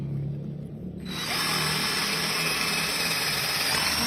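A cordless drill starts up after a second of quieter background and then grinds steadily into concrete, loud, close and continuous.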